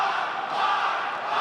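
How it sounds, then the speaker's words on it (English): A large arena crowd chants loudly and steadily at the Evo fighting game tournament, a dense, continuous roar of many voices with no break. "I don't even want to say anything while they're chanting"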